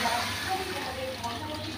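Broth poured into a wok of fried, browned onions for a cow tripe curry, giving a continuous watery splash and sizzle lasting under two seconds.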